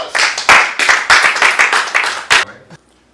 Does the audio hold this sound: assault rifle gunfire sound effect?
no